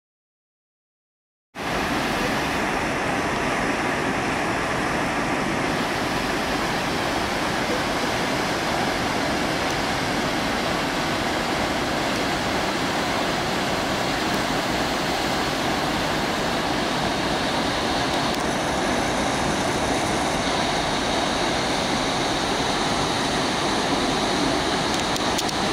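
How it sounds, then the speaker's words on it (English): Waterfall below a bridge near Schwangau, Germany, roars as a loud, steady broadband rush of falling water that holds constant throughout, with no voices. "just literally just enjoy the waterfall"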